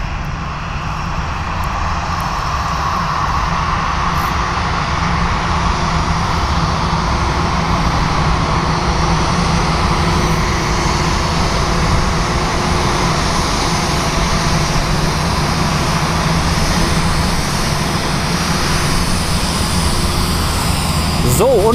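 Airliner engines at Frankfurt Airport give a loud, steady roar that stays constant and fills the whole stretch, with distant airport background beneath it.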